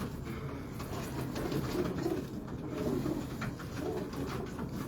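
Shah parwazi high-flying pigeons in Lahore coo steadily in low, throaty rolls, several birds overlapping into a continuous soft murmur that stays close and moderately loud with no talk.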